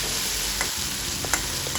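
Ginger, cumin and garlic paste being sautéed in a pan give a continuous close sizzle, with a few light scrapes of a stirring spoon against the pan.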